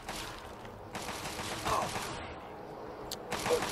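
Gunfire in the video game Fallout 3: Operation Anchorage, with dense, continuous shooting and clattering weapon mechanisms through the whole short stretch, steady and close.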